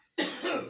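A man gives a single short, sharp cough, heard close and fairly soft after a moment of quiet.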